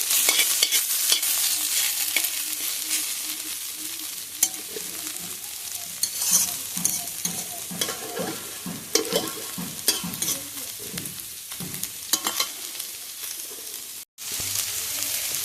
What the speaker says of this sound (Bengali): এই যে হালকা হালকা আছে আমি ভাজিটা করছি।